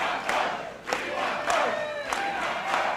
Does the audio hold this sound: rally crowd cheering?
yes